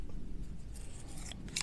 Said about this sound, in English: These Tasty scissors.